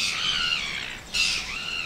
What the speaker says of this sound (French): je les aime pas ces mouettes, elles sont hyper bruyantes